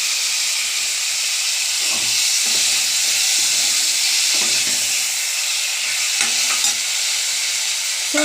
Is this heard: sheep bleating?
no